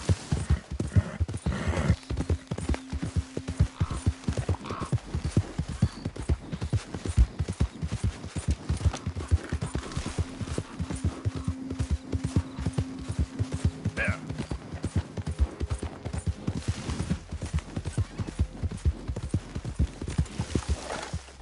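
Horse hooves clip-clopping steadily in a PS4 video game, a continuous rapid rhythm of hoofbeats with occasional faint background tones, at moderate level without talking.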